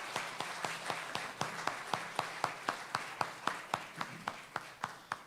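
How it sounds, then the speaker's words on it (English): Sparse, distinct hand claps at a mayoral forum ring out in an even, slow rhythm, fairly faint and roomy, like a small audience or a few people applauding candidates. "Let's give them a round of applause."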